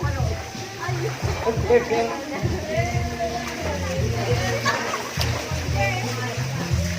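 Water splashing in a resort spring pool in Laguna, repeated sloshes and splatters close by, with children and adults talking and shouting over it throughout.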